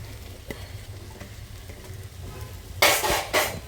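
Beef dropped into a hot pan for macaroni, with quiet stirring and scraping followed by two loud bursts of sizzling frying.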